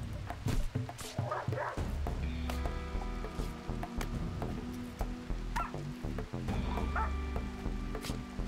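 Dog barking, yipping and whimpering during an attack in the colony video game Rimworld, repeated sharp barks over steady game music and ambient rain.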